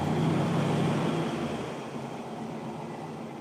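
A 1967 Chevrolet Corvette Stingray with side pipes idles loudly and close by, giving a steady low rumble that eases slightly partway through.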